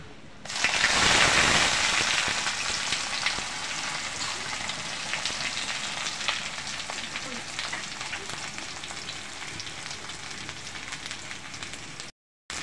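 Chopped onion hitting hot oil with cinnamon, cardamom, cloves and bay leaf, a loud burst of sizzling that settles into a steady, dense crackle lasting several seconds, close up and without talk.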